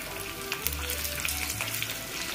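Onions frying in hot oil in a pan for masala bhindi, a steady close sizzle with faint crackles and light utensil scrapes, no voices.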